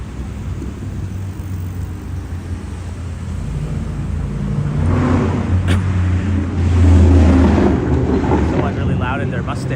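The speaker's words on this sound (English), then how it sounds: "Someone really loud in their Mustang over there." Loud Ford Mustang engine on a Toronto street, a low rumbling drone that builds from the middle and peaks near the end over steady wind and street noise, with a voice talking at times.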